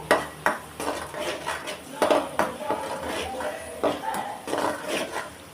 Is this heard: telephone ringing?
no